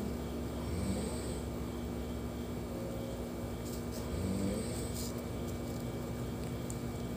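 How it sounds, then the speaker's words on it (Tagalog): Low, rumbling snores repeat under a steady background hum, with faint vehicle noise passing in the distance. "may hilik ng asawa ko"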